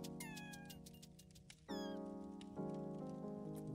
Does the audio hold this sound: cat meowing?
yes